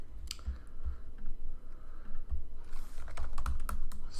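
Rapid clicking of keys on a computer keyboard, typed in short uneven bursts with brief pauses, close and fairly quiet, with no voices.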